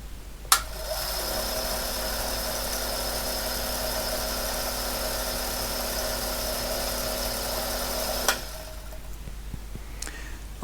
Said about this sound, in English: all the pins are moving in the punch head, so they're all continuously trying to punch the paper